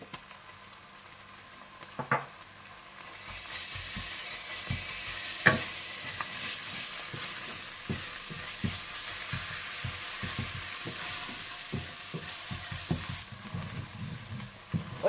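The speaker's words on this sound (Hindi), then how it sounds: "आप इसमें अदरक लहसुन डालकर भून लीजिए।" A steady sizzle of ginger and garlic frying in hot oil runs throughout, broken by stirring scrapes and a couple of sharp utensil knocks against the pan.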